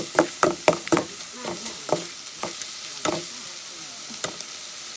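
Field rat meat being stir-fried in a pan outdoors in front of a rural house, with a run of sharp scraping and knocking stirs over a steady low sizzle, close and fairly loud, without talk.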